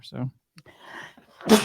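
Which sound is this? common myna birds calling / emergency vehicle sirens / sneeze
sneeze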